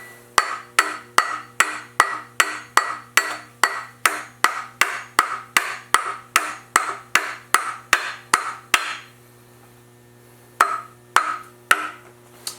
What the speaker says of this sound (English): me just tap this the rest of the way in